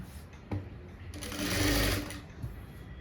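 Sewing machine stitching blouse fabric during a tailoring class, a close, rapid mechanical whirr that builds and peaks in one short burst, with quieter taps and handling before and after.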